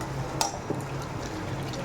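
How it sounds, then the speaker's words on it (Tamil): Water is poured into a pot of fish and potato curry made with tilapia, a soft liquid splash with a couple of brief clinks and drips, close and moderately quiet. "இப்போ கொஞ்சம் தண்ணி ஊற்றிக்கலாம்."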